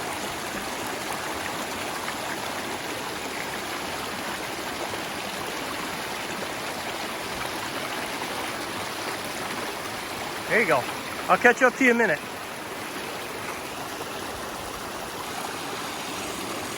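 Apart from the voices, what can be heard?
water flowing down a trail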